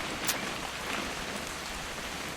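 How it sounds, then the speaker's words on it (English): Steady rain falls in the video game What Remains of Edith Finch, a soft, even hiss of drops on surfaces with no other sounds over it. "It's gonna rain the whole weekend, isn't it?"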